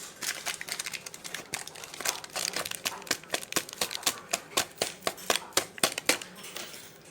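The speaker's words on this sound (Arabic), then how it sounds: "هنحط الكيسين النيدو اللي هو اللبن البودرة اهو" Packets of Nido powdered milk being crinkled and torn open in a home kitchen during bread dough preparation, a close series of sharp plastic rustles and snaps that grows denser toward the end, with no talk.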